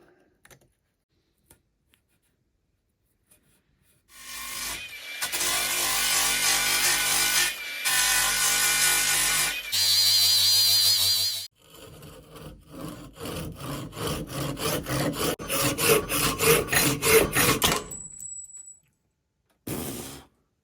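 A hacksaw rasps back and forth through material in steady rhythmic strokes, starting after a few seconds of quiet, with short pauses between bursts.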